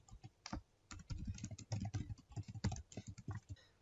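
Rapid clatter of keys on a computer keyboard as an email address and password are typed, with irregular bursts of close, crisp clicks and short pauses between runs, no voices.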